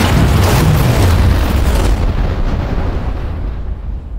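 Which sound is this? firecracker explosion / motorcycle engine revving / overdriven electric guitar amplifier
firecracker explosion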